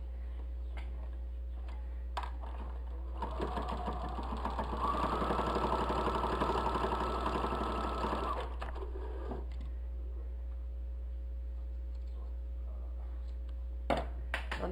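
A sewing machine stitches a fabric bowl cosy in a quiet room, running in a rapid, faint mechanical whir for about five seconds between brief clicks and pauses.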